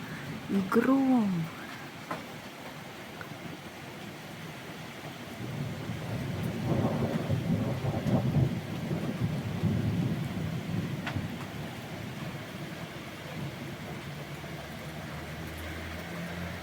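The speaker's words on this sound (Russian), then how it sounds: "Ой, молния и гром." Thunder rumbles through a spring thunderstorm in Kharkiv, with steady rain underneath; a voice speaks briefly at the start, then a long rolling roar builds in the middle and fades into continuous rainfall.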